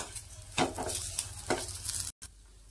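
Ginger and garlic cloves frying in a pan for spicy jackfruit curry, a close, steady sizzle with a few stirring scrapes and one brief cut-out near the end, no voices.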